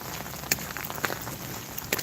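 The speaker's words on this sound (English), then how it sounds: "Rain is gushing," Steady broadband wash of heavy rain gushing outdoors near a street manhole, a continuous hiss with a few sharp drip or splash ticks scattered through it, fairly even in loudness.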